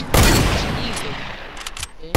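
Video game shooter gunfire crackles in a sharp burst at the start, then a few quieter scattered shots follow, with a player's voice talking over the action.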